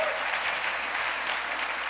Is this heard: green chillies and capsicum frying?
no